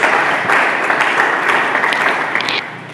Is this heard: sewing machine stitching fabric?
no